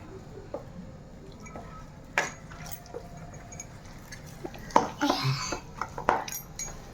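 Curry leaf pakora batter is mixed by hand in a bowl, giving soft, irregular wet squelches and occasional light clinks against the bowl, fairly quiet and close.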